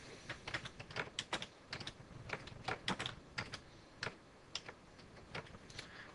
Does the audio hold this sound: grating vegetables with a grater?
no